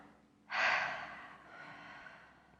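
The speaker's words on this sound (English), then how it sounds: "Clearing breath out." A single forceful clearing exhale during a yoga session, close and breathy, rising sharply and then trailing off into quiet.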